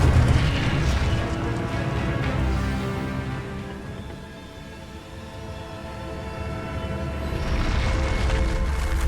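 An Incendio fire spell blasts in Hogwarts Legacy, a loud, sustained fiery roar with booming low rumble that dips briefly mid-way before swelling again, no talking over it.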